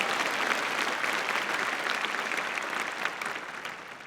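A commencement crowd applauds in a sustained, dense wash of clapping that stays loud and even before tapering off slightly at the end, with no talking over it.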